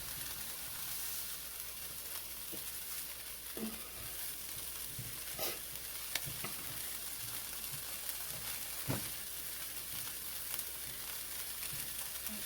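Shrimp fry in a pot for Chinese-style fried rice, making a continuous, even sizzle close up with a few light clinks and stirring knocks scattered through it.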